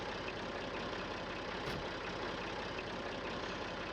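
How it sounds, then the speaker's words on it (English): Tractor engine in Farming Simulator 19, hitched to a trailer it is too small to work: a constant, even, low diesel drone with no change in pitch, and no talking. "this tractor might transport this trailer, but it's definitely not big enough to run it"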